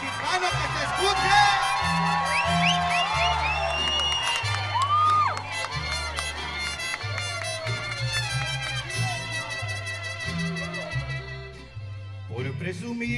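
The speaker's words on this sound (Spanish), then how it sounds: "Grito mexicano que se escuche." Whoops and shouted gritos rise from a crowd over a mariachi band playing live at the Redlands Bowl summer concert, with trumpets, violins and a steady bass line throughout.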